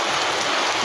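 Steady rain pattering down on surfaces during the first rain of the season, a dense even hiss close by with no voices.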